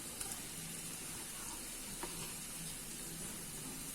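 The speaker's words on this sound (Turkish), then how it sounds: "Bir adet julienne doğradığım soğanlarımı tavama alıyorum." A steady, faint sizzle and crackle of julienned onions frying in a pan, with a few soft clicks and no talking.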